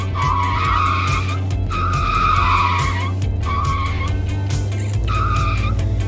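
Tires squeal in long sustained screeches over a steady engine drone as a car drifts in the video game Drift Boss, the skids coming in repeated loud bursts with brief gaps between them.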